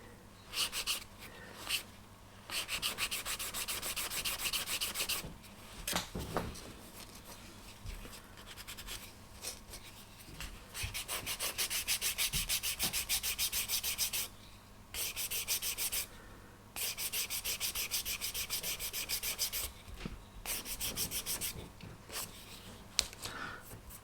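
Wooden ship model part for a Vanguard Models HM Sherbourne build, sanded by hand with 400-grit sandpaper: close, raspy scratching strokes in repeated bursts separated by brief pauses, with no talking.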